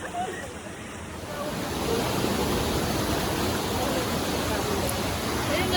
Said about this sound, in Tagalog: To Mother Falls.